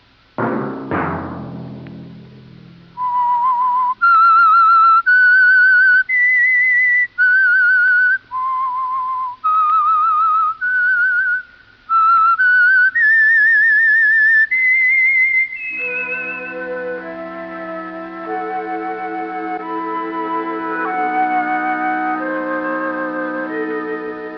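A clear, loud melodic whistle plays a short tune of separate notes, the signature theme of a 1949 radio drama, followed by a sustained orchestral chord swelling underneath.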